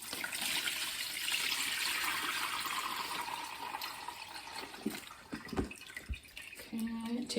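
Boiled elderflower liquid is poured through muslin and a colander into a pan, a steady rushing splash that tapers into drips and clinks of the colander toward the end.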